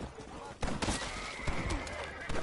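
Gunfire in the Western video game Red Dead Redemption, a sawn-off shotgun among the weapons, with several loud blasts and bursts in quick succession over busy game noise and a voice talking.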